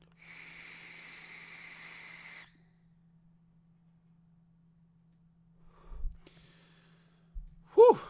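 A SMOK TFV4 tank fired at 100 watts gives a long, steady airy hiss of about two seconds during the draw. Near silence follows, then soft breathy exhale and mouth sounds close by.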